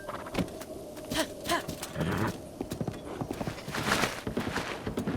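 Horse hooves clip-clop steadily across the ground in Breath of the Wild, entering the desert, a brisk continuous galloping rhythm that stays fairly loud throughout.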